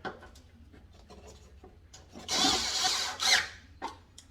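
A power tool drives 10mm bolts back into a 2008-2012 Chevy Malibu headlight assembly, giving a couple of loud whirring bursts after quieter handling clicks and rustles, close by with no talking.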